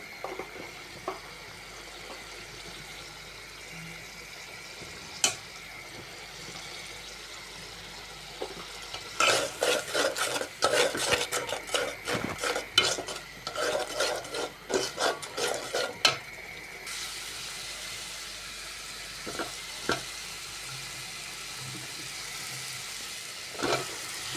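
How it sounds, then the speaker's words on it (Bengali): Spices being sautéed and stirred in a pan for a Bengali fish and cauliflower curry: a soft, steady sizzle, with a burst of busy scraping and clinking stirring in the middle, then quieter stirring. "এখানে মশলাগুলো কষাই নিচ্ছি"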